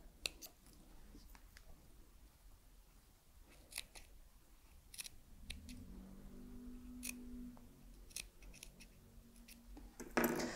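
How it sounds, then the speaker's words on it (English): Scissors snip into fabric to open a bound buttonhole, cutting into each corner: scattered sharp, quiet clicks and snips close by, with faint handling rustle and no speech. "snip into it, and then in the corners, you are cutting into each corner"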